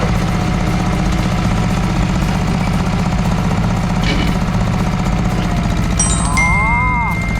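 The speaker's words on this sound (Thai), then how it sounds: "สองครับเร่งเครื่องแล้วใส่เกียร์สองเลย" A tractor engine runs loud and steady throughout, a deep rhythmic chugging that rises slightly as it revs in second gear, with a brief squeal near the end.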